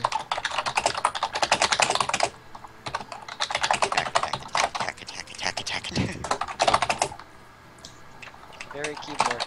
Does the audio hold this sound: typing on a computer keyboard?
yes